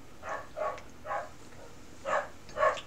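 A dog barks somewhere in the distance, five short, faint barks spaced irregularly over a few seconds with no other sound.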